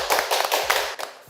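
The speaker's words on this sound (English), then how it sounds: "So yeah, clap it up." A handful of separate claps, roughly five or six close, sharp hand strikes in an uneven rhythm, fairly loud and near, with nothing else heard around them.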